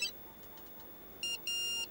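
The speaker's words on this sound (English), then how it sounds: "It's my new mobile phone. The latest model, you know." A new latest-model mobile phone rings in a quiet studio just before a broadcast countdown, giving two short bursts of a high electronic ringtone separated by a brief gap.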